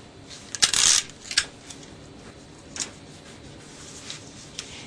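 Tape is pulled and pressed down onto drawing paper, a short burst of close ripping and crinkling followed by a few soft taps and rustles.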